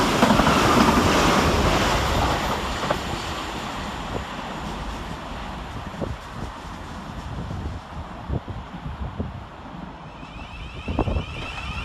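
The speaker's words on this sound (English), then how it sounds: "Off into the distance goes 700 140, working the 1056 Govia Thameslink service to Bedford" A Govia Thameslink Class 700 train, unit 700140, runs through Three Bridges station, giving a loud, steady rolling rush that slowly fades into the distance, with scattered rail clicks along the way.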